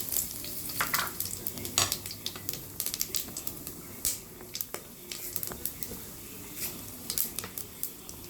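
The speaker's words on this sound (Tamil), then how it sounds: "கொஞ்சம் கருவேப்பிலை போட்டு தாளிச்சிட்டு நம்ம பெசரி வச்சுருக்கோம் இல்லையா, அந்த சிக்கனை வந்து அதில் கொஞ்சம் கொஞ்சமாக சேர்க்கணும்" Chicken pieces frying in a pan tempered with fennel, cinnamon and curry leaves, with steady sizzling, popping spatters and the scrape of stirring, up close.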